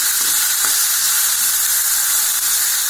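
Pumpkin pieces sauté in hot oil in a pan, giving a steady, loud, close sizzle with a bright hiss and an occasional faint stirring scrape, with no voices.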